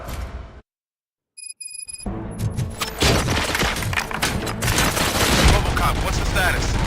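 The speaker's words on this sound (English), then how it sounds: "Gunshots? What's going on?" Gunfire bursts out in the video game RoboCop: Rogue City after a short silence, a dense fusillade of shots and thumps that builds and stays loud to the end.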